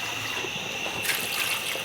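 Fresh deep well water pours steadily for cooking Southern beef goulash, a constant trickling splash that grows brighter and fuller partway through, with no talking.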